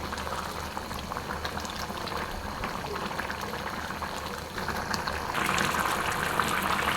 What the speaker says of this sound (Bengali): আরও পাঁচ মিনিটে সবজিটা আমরা রান্না করে নেব